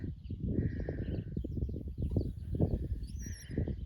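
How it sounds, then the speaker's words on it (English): Backyard garden birds calling in a short burst, a few thin chirps and whistles at moderate distance over a dense low rumble of outdoor noise, with no talking. "And here's the birds."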